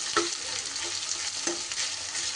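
Sliced onions fry in oil in a pan, giving a steady close sizzle broken by a couple of spatula stirs and scrapes, with no voices.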